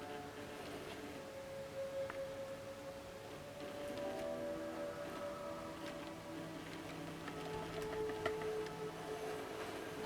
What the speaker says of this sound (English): I can hear the motor going.